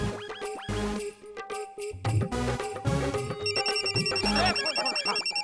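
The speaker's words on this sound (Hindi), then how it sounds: "प्रबल भैया ने फोन उठाया।" A telephone rings in a bright, repeating tone inside a family home, mixed with background music and other sounds.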